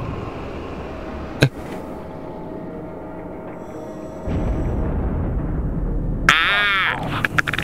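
A deep rumbling boom from an explosion in Call of Duty: Modern Warfare 3 bursts in near the end, loud and sudden, over a steady background hum; an earlier sharp crack stands out briefly.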